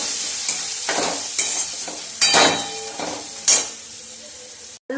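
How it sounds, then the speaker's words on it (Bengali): Turmeric, cumin and chili powder frying in a pan with steady loud sizzling and bursts of stirring scrapes, close up. "সামান্য একটু লঙ্কার গুঁড়ো দেবো অল্প, দিয়ে এটাকে ভালো করে কষিয়ে নেব"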